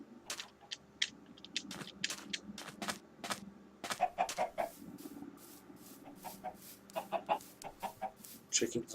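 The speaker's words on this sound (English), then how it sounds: "Chickens making all kinds of eggs." Minecraft chickens in the Tekkit modpack cluck repeatedly in short, uneven bursts, some near and some farther off, with a faint hum of game ambience underneath.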